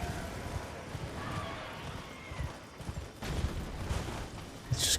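A horse gallops in the video game Elden Ring, its quiet clip-clop hoofbeats running steadily through the short stretch amid faint ambient game sound.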